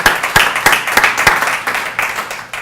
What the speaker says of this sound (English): please join me in a round of applause, welcoming them